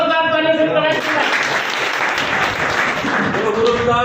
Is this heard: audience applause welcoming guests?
yes